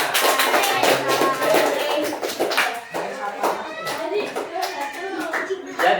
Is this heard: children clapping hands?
yes